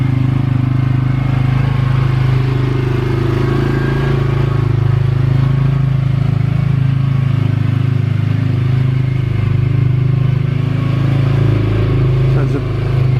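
CF Moto quad bike cruising steadily on cruise control, its engine holding a constant loud drone close to the microphone with wind rumble throughout.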